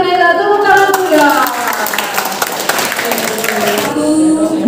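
A classroom of high school students claps together in a large group guidance session, a brisk burst of hand claps under and between talking voices, fairly close and loud.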